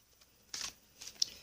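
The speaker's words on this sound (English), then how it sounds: "But I am shuffling my brand new Halloween Oracle deck by Stacey DeMarco." A brand new Halloween Oracle card deck being shuffled by hand, a few quiet, brief papery riffles and flicks close to the mic, with no talking.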